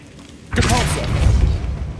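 A Depulso repelling spell strikes in the Hogwarts Legacy video game, a sudden booming thud after a quiet lead-in that rolls on as a loud, rumbling blast with a voice calling out over it.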